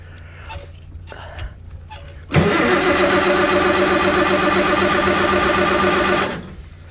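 A tractor engine cranks and catches on full choke in snowy conditions, roaring up abruptly and holding a loud, steady run for about four seconds before cutting out, after faint clicks and murmured talk.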